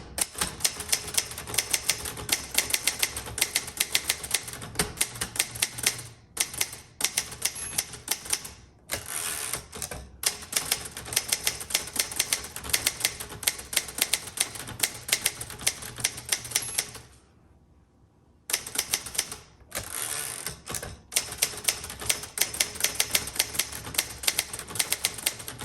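Typing on a 1960s Olivetti-Underwood Studio 44 typewriter: rapid, crisp mechanical keystrikes clatter in close bursts, broken by short pauses and a longer silence, with carriage and return sounds mixed in.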